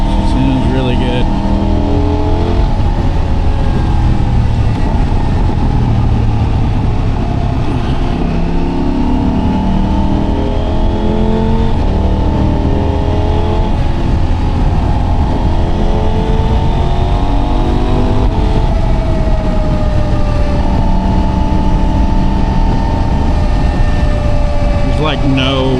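A 2025 Husqvarna Svartpilen 801 motorcycle fitted with an Ixil slip-on exhaust roars loudly and continuously, its engine note rising and falling while riding, with heavy rushing wind mixed in.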